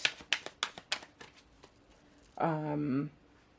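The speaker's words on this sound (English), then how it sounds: "Stop shuffling and flip it over." Tarot cards shuffled by hand in a series of quick crisp riffling bursts, close and fairly loud, before a brief voiced tonal sound takes over near the end.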